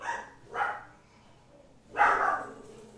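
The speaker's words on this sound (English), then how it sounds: "Your dog does not like The Office." A dog barks twice in sharp, fairly loud bursts, the first short and the second stronger and longer, with quiet room tone in between and no one speaking.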